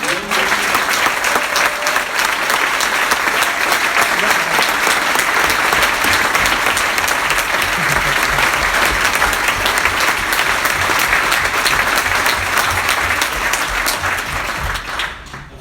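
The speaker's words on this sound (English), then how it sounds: "can we also have another big round of applause" Sustained applause from a large crowd at a school event, a dense, even clatter of clapping that holds steady for about fifteen seconds before tapering slightly at the end.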